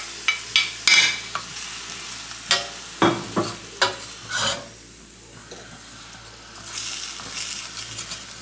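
Shallot cooking in melted butter with lemon juice in a pan while being stirred, heard as a series of sharp scraping strokes and clatters over a soft, steady sizzle, close and alone, with no talking.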